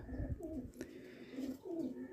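Domestic pigeons kept in a home loft coo softly in repeated throaty, rolling calls, faint and close with a light clatter in the background and no talking.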